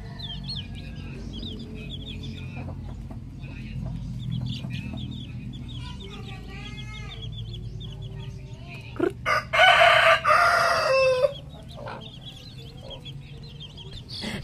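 Native or imported chickens cluck and chatter around a nesting coop, and a rooster crows loudly and close for a couple of seconds midway through the clip.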